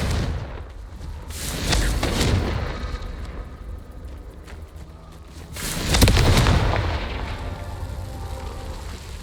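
Confringo blasting spells exploding in Hogwarts Legacy, two loud booming blasts a few seconds apart, each with a rumbling roar that swells and fades, over a steady low background.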